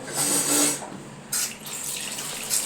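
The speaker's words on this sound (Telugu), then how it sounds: "నేనైతే కొంచెం కొంచెం వాటర్ పోసేసి చేతితో తుడుచుకుంటూ కడుగుతున్నాను" Water poured in small splashes over a stove counter slab while it is washed by hand in a home kitchen; short bursts of running and splashing water, close and fairly soft, with no talk.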